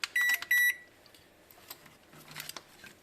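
Electronic beeps from a timer-controlled soldering iron station: two loud, sharp tones close together at the start, then quieter faint chirps and rustling. Nobody speaks.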